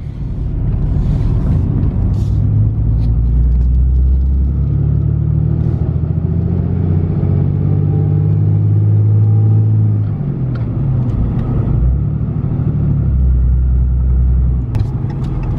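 A pickup with a 6.7L Cummins diesel and a dual disk clutch cruises in third gear. Its steady low engine rumble and road noise stay loud and unbroken from the cab throughout, with no talk.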